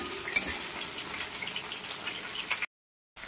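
Green chili split in half and frying with small fresh pond fish in a pan, an even sizzle with a faint clink of a utensil, cut off briefly near the end.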